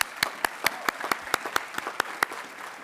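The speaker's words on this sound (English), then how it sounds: "giving these outstanding faculty and staff a group round of applause" A graduation ceremony audience at a doctoral diploma and hooding ceremony applauds faculty and staff with sparse, separate claps in a steady rhythm, heard moderately close.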